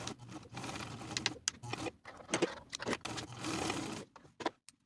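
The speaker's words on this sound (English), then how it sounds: "I'll sew from the top across that bottom folded edge with a 5/8 inch seam allowance." Sewing machine stitching across the folded bottom edge of a pocket on elastic-waist women's pants, a quiet run of rapid stitching that stops and starts in short bursts.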